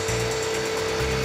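A Bladerunner powered saw cuts through quarter-inch MDF in a steady, close, continuous whir with a fine buzzing rasp, loud and uninterrupted throughout.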